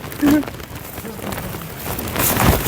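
Rain pours steadily at an outdoor spot on Geoje Island, South Korea, a dense close hiss with a brief voice near the start.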